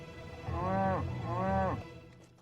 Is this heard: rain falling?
no